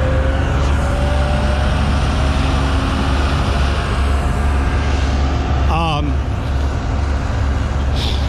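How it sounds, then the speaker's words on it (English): A tractor's heavy engine drones steadily nearby as it rolls past near Niagara Falls, with a brief voice cutting in partway through. "hold on for this tractor to go by."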